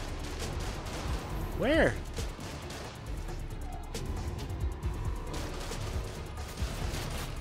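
Gunfire rings out in the Spider-Man video game on PS5 as bursts of shots and crackling fire crowd a busy game soundtrack, with someone talking over it.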